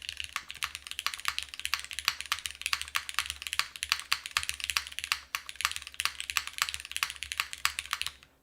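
Rapid, steady keystrokes on a mechanical keyboard with Cherry switches in an aluminum case, close and crisp, clacking continuously for the whole stretch without any talk.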